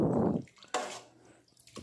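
Bottled mineral water, two bottles, poured into a cooking pot while making a beef papaitan stew: a splashing, gurgling pour at the start, then another short burst of liquid splashing.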